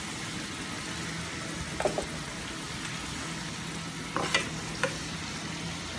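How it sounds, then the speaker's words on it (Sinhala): Dried red chilies frying in a pan for a stir-fried tindora dish: a constant dense sizzle throughout, with a few brief clicks of stirring, close and steady. "ඒ වගේම අපේ පාට මිරිස් ටිකත් මේ විදිහට fry කරගමු."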